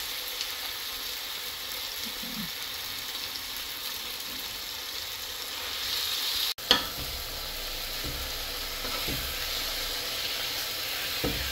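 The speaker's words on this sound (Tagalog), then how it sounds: "dahil brown na siya, lalagay po natin yung chicken" Chicken pieces for Filipino afritada frying in a pan, a steady loud sizzle throughout, with a sharp clatter partway through and light stirring scrapes, no speech.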